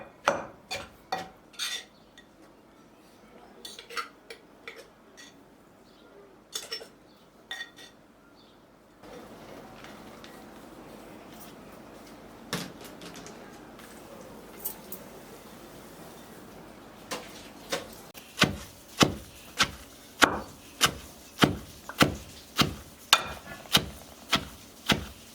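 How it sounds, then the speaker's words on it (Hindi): Raw mango being pounded coarsely in a mortar and pestle for a mango and elephant-foot yam pickle, a string of sharp, close knocks that turn into a steady, fast run of loud thuds near the end. "ये देखिए हमने आमी सबसे पहले कूटा है खलबट्टे में"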